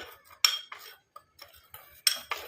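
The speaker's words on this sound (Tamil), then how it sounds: "அந்த மஞ்சள் பொடியை இதில் வந்து நம்ம ஆட் பண்ணிக்கலாம். ஆட் பண்ணிட்டு நம்ம நல்லா கலந்து விட்டுடலாம்." A spoon stirs turmeric powder into a mixture, giving several short metallic clinks and scrapes against the vessel in an uneven rhythm, close and fairly quiet.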